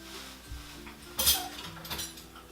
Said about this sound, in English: just give it a little stir is because you're going to go ahead and, you know, mix around the, seasonings